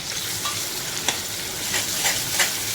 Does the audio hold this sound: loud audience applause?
no